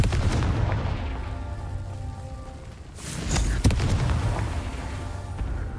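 A Confringo fire spell explodes in Hogwarts Legacy, a loud broadband burst around the midpoint with a sharp crack, set over a dense rumbling game soundscape that carries on throughout.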